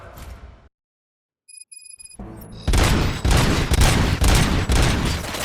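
After a brief silence and a few electronic beeps, sustained bursts of rapid gunfire erupt in loud, dense volleys in the video game Robocop: Rogue City.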